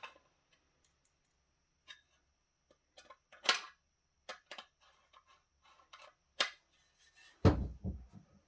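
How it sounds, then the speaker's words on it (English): Screws being driven to fasten a tray inside an old rack-mounted gaming PC case, sparse small metallic clicks and ticks with a few sharper clacks and a dull thump near the end, quiet and close. "Get these other two screws on, and I'll screw this tray back down."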